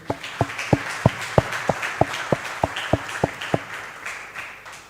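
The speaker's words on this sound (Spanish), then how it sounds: "Un aplauso ahí para Jorge" A church congregation applauds, a steady run of sharp, evenly spaced claps at a quick rhythm over a low background murmur, fading out toward the end.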